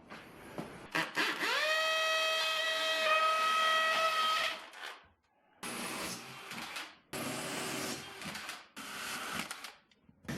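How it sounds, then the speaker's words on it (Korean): A power drill bores holes for mounting an F-shaped toilet cubicle partition, its motor whining up in pitch and holding steady for several seconds, then two more short, loud bursts of drilling follow after a pause. "이제 타공을 한번 해볼게요."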